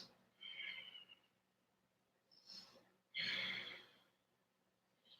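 Heavy breaths during a one-legged plank in a vinyasa yoga flow: three audible inhales and exhales, close to the microphone, the last one longest and loudest, with quiet pauses between them.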